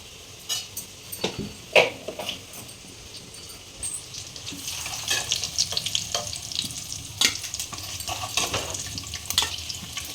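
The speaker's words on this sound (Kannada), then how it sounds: "ಗಮ್ಮಂತೈತೆ ಮೊಟ್ಟೆ, ಅದಕ್ಕೋಸ್ಕರ ಫ್ರೈ ಮಾಡ್ಕೋಬೇಕು" Eggs frying in a pan give a steady sizzle with sharp scrapes and clinks of a utensil, louder stirring in the second half, and a trickle of water in places.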